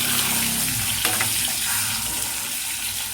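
Eggs fry in a pan with a little oil, turmeric, salt and chili powder, giving off a dense, steady sizzle. The crackle is close and continuous, with a few faint clinks and no talking.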